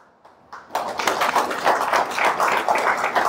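An audience at a motivational speech breaks into clapping after a few scattered taps, building quickly into sustained, fairly loud applause from a crowd.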